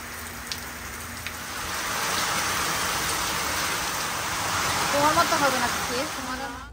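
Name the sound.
rain falling outdoors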